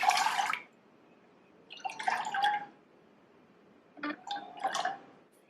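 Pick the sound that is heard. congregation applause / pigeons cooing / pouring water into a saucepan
pouring water into a saucepan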